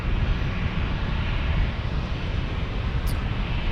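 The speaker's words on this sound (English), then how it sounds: "Next Southwest Airlines is arriving." A Southwest Airlines plane arriving at San Diego airport makes a steady, broad jet roar that stays loud and even throughout, with no talking over it.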